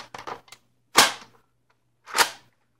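Two sharp pops from a modified Nerf FOST dart blaster firing, spaced about a second apart, close and loud, following a few softer mechanical clicks and rattles.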